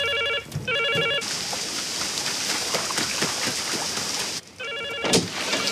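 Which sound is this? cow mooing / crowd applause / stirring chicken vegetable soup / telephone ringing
telephone ringing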